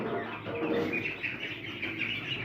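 Young chicks peep in a steady, dense chorus of high, overlapping chirps that carries on throughout, fairly close and with no talking.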